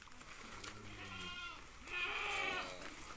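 Goats bleat on a village farm, a couple of quavering, nasal calls in succession, the second louder and higher, heard fairly close in an otherwise quiet setting.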